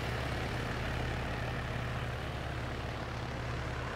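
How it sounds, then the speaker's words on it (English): A military helicopter in a tactical shooter game set in Fallujah gives a steady, close, loud engine and rotor drone that stays even throughout, with no talking. "get in this first helicopter"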